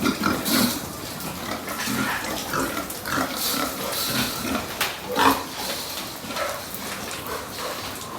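Several fattening pigs grunt and snort close by, overlapping irregularly in a busy pen on a pig farm, with no talking.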